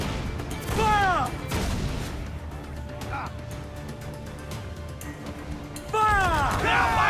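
Ship cannons boom in a naval battle in Assassin's Creed IV: Black Flag, with heavy blasts scattered through the scene and shouting crew voices breaking in near the start and end.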